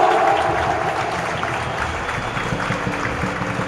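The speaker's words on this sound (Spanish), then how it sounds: "Un fuerte aplauso también para ellos." An audience at a charity basketball game applauds. The clapping is dense and steady and fills the hall for the whole clip, and no voices are heard.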